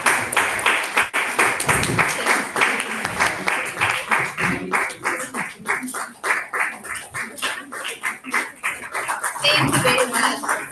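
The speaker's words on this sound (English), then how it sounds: "Clap for him." An audience at a Toastmasters club meeting claps for a member in a burst of dense, lively applause that rises and falls, with voices mixed in beneath the clapping.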